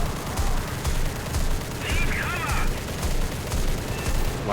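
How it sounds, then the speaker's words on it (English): Rapid bursts of 37 mm aircraft cannon fire in War Thunder, the Ki-96 fighter's guns thudding in repeated rhythmic volleys over a steady engine drone, with a brief whistling sound partway through. "We're still warming up with the guns here. You know, the 37 millimeters."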